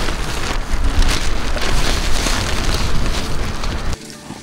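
Steady, dense rain pours down close by, a continuous hiss with patter on surfaces, then cuts off abruptly near the end.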